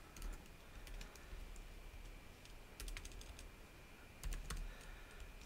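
Quiet computer keyboard typing while code is entered, soft clicking keystrokes in a few brief bursts separated by pauses, close and alone without talk.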